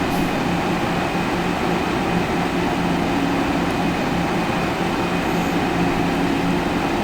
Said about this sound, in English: So I'm going to slow down the train right now.